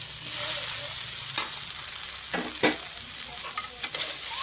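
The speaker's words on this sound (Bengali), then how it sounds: "কপির সঙ্গে একটু কষাবো।" Fried cauliflower being stirred into potatoes, tomato and spice masala in a pan: a steady soft sizzle with a few scraping spoon strokes near the middle and end, fairly close, no voices.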